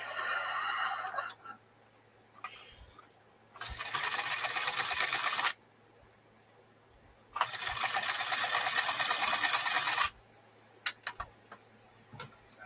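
A sewing machine stitches heavy fabric up close in several bursts: a short run, then two long buzzing runs of a few seconds each, separated by quiet pauses, with brief taps and clicks near the end.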